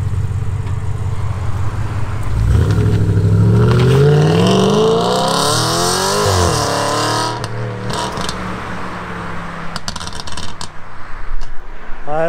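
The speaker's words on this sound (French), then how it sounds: "Le son, je sais pas ce qu'il a mis comme ligne d'échappement dessus, mais elle est agressive." A supercar with an aggressive aftermarket exhaust pulls away from a supercar gathering, its engine revving up through rising, loud tones, then fading off with crackling exhaust pops and burbles, voices nearby.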